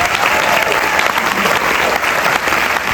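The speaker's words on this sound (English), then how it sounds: "so a round of applause for our staff" Audience applause for festival staff at a Hamptons film festival event, dense and steady, loud and close throughout, with no voices over it.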